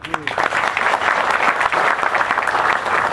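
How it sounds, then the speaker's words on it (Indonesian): An audience at an outdoor plaza gathering applauds in a loud, dense wash of clapping that holds steady throughout, with a brief voice audible at the start. "Tepuk tangan untuk dia."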